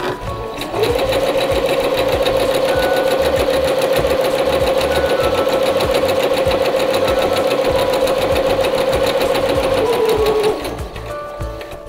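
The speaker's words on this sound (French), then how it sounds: "Cousez directement en marche avant." A sewing machine runs a long, steady forward stitch on fabric to make gathers, a loud continuous motor whir starting after a second and stopping near the end, with no talking.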